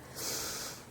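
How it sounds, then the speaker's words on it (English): A single deep breath drawn in through the nose, a soft airy hiss swelling and fading over under a second, close and quiet. "take a deep breath"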